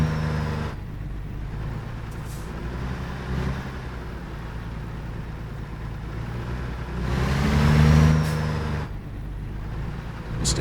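A truck engine in American Truck Simulator, heard from outside the cab, rumbles loud and steady with a low drone, swelling briefly in the middle as it revs before settling again.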